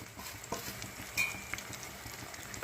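Leftover chapati pieces fry in hot oil while being stirred, giving a faint, steady sizzle broken by a few soft scraping clicks from the stirring.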